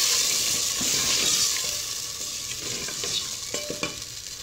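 Chicken being stirred with a ground masala of chili, tomato and ginger in a pan, a steady sizzle broken by scraping spoon strokes and a few sharp clinks near the end, with no talking.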